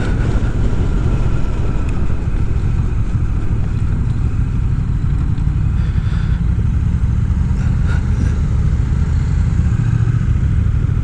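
A 2025 Honda Rebel 1100 DCT cruiser motorcycle on a demo ride at the Sturgis Rally, with a steady low engine drone and wind rush continuing throughout and no talk.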